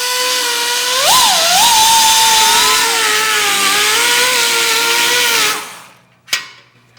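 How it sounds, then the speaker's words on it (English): An electric Dremel rotary tool grinds during work on a Shovelhead or Panhead hardtail install. Its high, steady whine changes pitch as load comes on and off, then winds down, with a short clatter near the end. "if you don't have air, you can use a regular electric Dremel."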